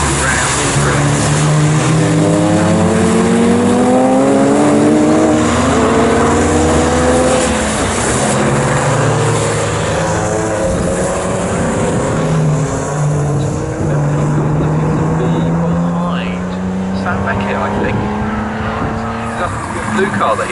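Porsche Boxster race cars, one of them yellow, lapping Snetterton circuit in a classic restoration race: several engines whine and rise in pitch as they pass, loud and continuous, with a commentator talking over them throughout.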